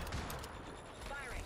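Dense gunfire bursts from a ranked shooting video game match, loud and continuous through the clip with overlapping shots and booms.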